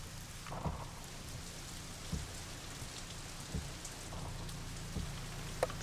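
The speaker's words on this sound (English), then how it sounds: "But this is, for example, with the rain." Rain in the Assetto Corsa racing game, a soft continuous hiss broken by a few faint thudding drops or rumbles, quiet and steady with no voices.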